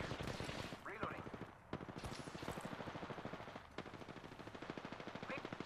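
Rapid automatic gunfire from the video game Apex Legends rattles continuously and close, with dense repeated shots and brief game voice lines mixed in.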